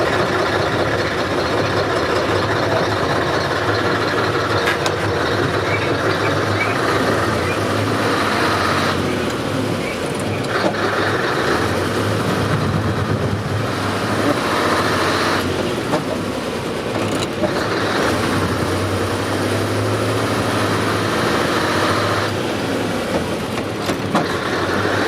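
Steady, loud interior drone of a TAM 5500 fire truck pulling away slowly and driving on, its engine and road noise rising and falling gently throughout with no talking.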